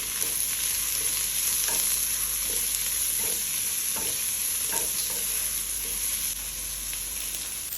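Chopped onions and dried chillies sauté in a pot for a one-pot chicken rice, giving a steady, close sizzle with faint rhythmic stirring scrapes throughout and no talking.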